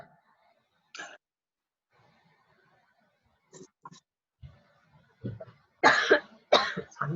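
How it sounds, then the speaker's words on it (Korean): A person coughs in several short, sharp bursts separated by quiet gaps, the last few coughs louder and heavier, close to the microphone with no talking. "기침이 나오네요."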